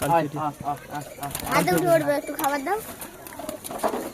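Pigeon cooing while the bird is held in the hand, soft throaty coos rising under steady close conversation from nearby people.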